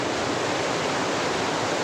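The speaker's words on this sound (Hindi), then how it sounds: "आप भी देखिए वाटरफॉल कोटन चचरा का" Kotan Chachra waterfall gives off a steady, dense rushing roar of falling water. The sound is loud and continuous, with no voices over it.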